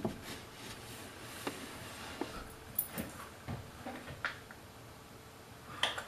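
Dogs whimpering softly, a series of faint, brief whines and small sounds scattered over a quiet background with no talk.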